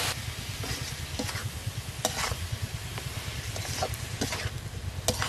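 Radish greens hiss and sizzle in a hot pan as they are stir-fried with salt, turmeric and chopped green chillies, a steady close frying sound broken by regular scraping clicks of stirring.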